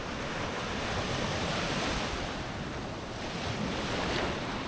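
Ocean surf rolls onto a Costa Rica beach, a dense continuous wash of breaking waves heard up close, steady and loud, with some wind buffeting the microphone.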